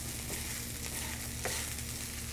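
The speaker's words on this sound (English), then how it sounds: "That rice is sticking. Using a wooden spoon to scrape it up." Sticking rice being scraped with a wooden spoon in a hot pan over high heat while making Filipino food, a steady close sizzle with faint scraping scuffs and no talk.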